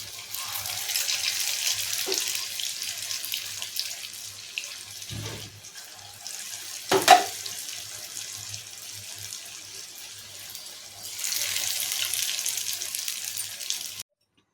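Punugulu, idli-batter fritters, fry in oil in a kadai over a medium flame, giving a steady, soft, even sizzle with a few brief clinks and louder bursts along the way.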